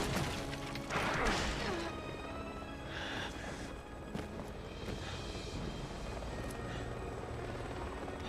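Helicopter in the Resident Evil 6 video game, a steady rotor and engine roar holding across the whole stretch, with a loud crash-like burst near the start and some brief impacts later in the mix.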